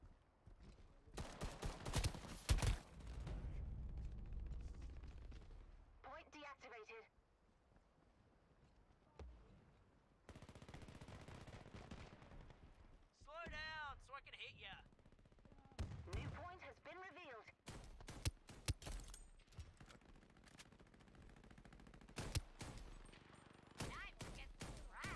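Gunfire in the Shatterline shooter game comes in loud, sharp bursts and rapid volleys separated by quieter gaps, with warbling whistle-like effects between them.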